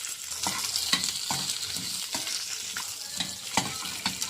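Chopped onion sautéing in a pan alongside garlic and a little ginger for a coriander and curry leaf thogayal, a steady close sizzle with repeated sharp scraping stir strokes throughout.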